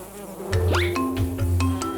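Wild forest bees buzzing close by in a wooded setting, a steady insect drone with several passing swoops and pitch sweeps as individual bees fly near, with no talking.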